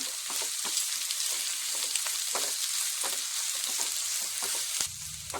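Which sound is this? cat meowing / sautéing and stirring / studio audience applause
sautéing and stirring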